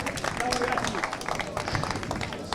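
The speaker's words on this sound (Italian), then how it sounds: "facciamo un applauso ancora a Max" Brief audience applause at a cycling race presentation event in Sardinia, a fairly faint, rough spatter of clapping with crowd voices mixed in.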